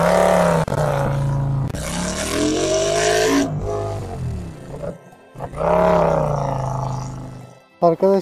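A Nevada 250 motorcycle engine revs and pulls through gears during a ride, with rising and falling whine in several long sweeps, a brief lull, then another strong acceleration, heard close and loud.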